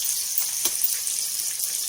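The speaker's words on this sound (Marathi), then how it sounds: "बघा मी तेलामध्ये एवढे कारले टाकले आहे। आधी मी याला थोडंसं फ्राय करते" Bitter gourd pieces fry in oil for a bitter gourd bhaji, giving a soft, even hiss close by with one faint clink and no talking.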